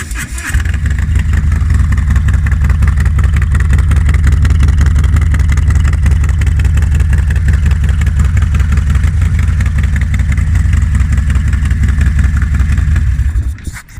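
A Harley-Davidson Road Glide with a 114ci engine fitted with an S&S cam chest kit starts up and settles into a loud, steady, close-up idle with a deep lumpy throb, cutting off at the end.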